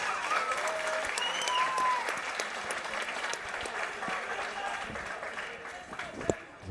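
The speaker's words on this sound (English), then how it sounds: "let's give both fighters a big round of applause" Applause from a boxing event audience after a three-round bout, a steady wash of clapping across the whole stretch with a few sharp nearby claps and faint whistles or voices mixed in.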